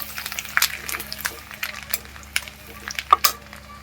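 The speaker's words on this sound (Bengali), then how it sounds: "রসুনটা ভাজা হয়ে গেছে হালকা লাল করে" Garlic frying in a pan for chilli chicken makes a soft, steady sizzle, broken by irregular scrapes and clinks of a spatula stirring close by.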